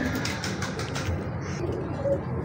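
A golden pigeon coos softly nearby in a coop, with low rounded calls and faint background rustle.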